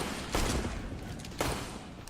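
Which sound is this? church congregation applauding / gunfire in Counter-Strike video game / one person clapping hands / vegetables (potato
gunfire in Counter-Strike video game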